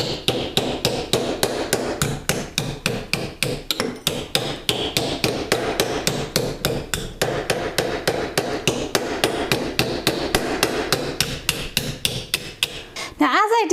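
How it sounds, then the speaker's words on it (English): A hammer strikes a metal bracelet to form it around a mandrel, giving quick, evenly spaced, ringing metallic taps, close and loud, that continue steadily for several seconds before stopping. "I'm going to continue to strike that air pocket and form this bracelet around the mandrel"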